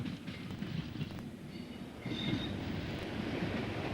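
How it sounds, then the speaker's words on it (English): Brighton Belle train passing through a station in British Railways days, a close rumbling roll of wheels and carriages with brief squeals, steady and loud throughout. "Vying with the Golden Arrow for the title of the Southern's best-known train was the Brighton Bell, seen here passing through Weaversfield in BR days."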